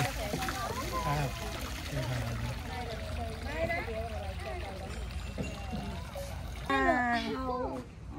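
A garden water fountain splashes steadily, its jet lifting a balloon, a constant close rush of falling water heard under ongoing conversation.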